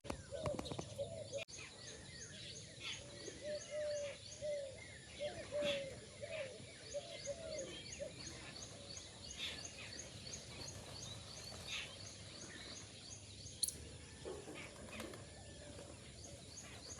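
Pigeons coo in repeated, soft low calls around a home in the morning, with sparrows nearby, the birds steady in the background while a person talks over them.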